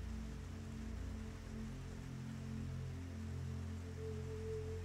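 Rain keeps falling over a quiet Lisbon street, a faint constant patter layered on a low steady hum, without talking.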